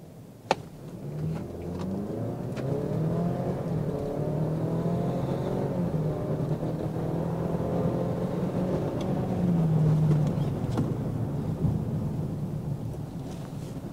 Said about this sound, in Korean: 주행에 앞서서 일단은 항상 하는 것처럼 가속 테스트를 먼저 한번 해볼게요